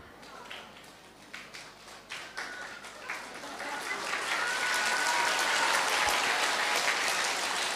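An audience claps during a Buddhist sermon. The first scattered claps build into sustained, dense applause that grows louder and fuller toward the end.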